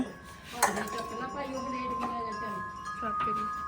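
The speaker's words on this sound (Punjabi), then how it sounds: "ਚੱਕ ਲਾ ਭਾਂਡੇ" Metal pots and dishes clink and clatter as they are handled, with a sharp clang near the start and people talking over the noise.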